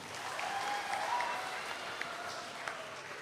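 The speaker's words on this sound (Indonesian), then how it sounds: "Tepuk tangan buat beliau." Steady applause from a church audience at a Christmas gathering honouring the pastor, a soft, distant wash of clapping without pauses.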